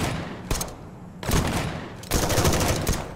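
Gunfire in the video game Arcticide: two loud broadband bursts, one brief near 0.5 s and a longer sustained volley from about 1.2 s, then another heavy burst from 2.1 s, over a noisy background with no talk.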